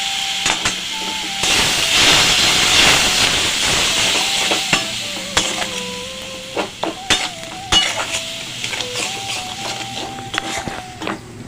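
Water added to spice paste frying in a pan for egg biryani, a strong hiss and sizzle followed by clinking of a spoon stirring against the metal pan.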